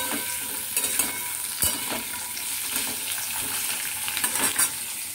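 Sweet potato, raw banana, carrot and papaya for Bengali shukto sizzle in a pan as they are stirred, a steady frying hiss broken by scraping strokes of the spoon, close and alone.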